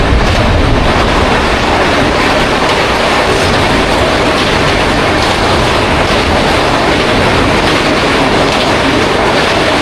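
East Express train running fast, a loud, steady roar of rolling wheels and rattling carriages with faint clickety-clack, heard close from on board with no talk.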